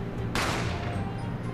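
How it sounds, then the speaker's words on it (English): A single sharp gunshot cracks out in The Great Ace Attorney Chronicles, a sudden bright burst that tails off quickly over a low, steady background. "A gunshot rang in my ears."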